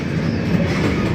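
Rajdhani Express passenger train rolling along the rails in West Bengal, India, with a steady low rumble and a continuous clickety-clack from the wheels, heard close and alone.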